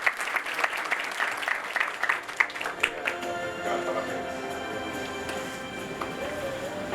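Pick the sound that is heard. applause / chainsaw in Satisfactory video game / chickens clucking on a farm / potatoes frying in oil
applause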